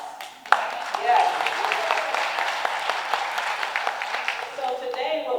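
An event audience bursts into steady applause after a sudden start, many hands clapping together for several seconds before tapering, with a few voices and cheers mixed in.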